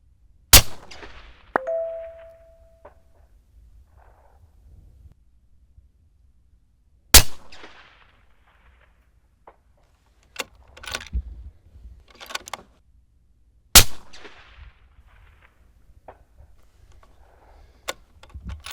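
Three sharp, loud rifle shots ring out at roughly six-second intervals from a rifle fired at a 600-yard target with custom loaded ammunition, each crack trailing off in a brief echo, with faint clicks and handling noises between them.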